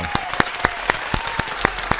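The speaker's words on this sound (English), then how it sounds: "let's clap that up for a second" A few people clap in a slow, steady rhythm during a hip-hop interview show, each sharp clap distinct and close, with a faint crowd murmur underneath.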